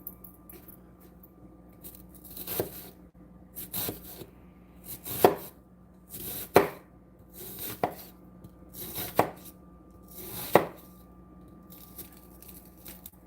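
A small onion being chopped on a board with a knife, in a home kitchen making risotto with lentils and sausage: about seven sharp, separate knife strikes at irregular spacing, with quiet room noise in between.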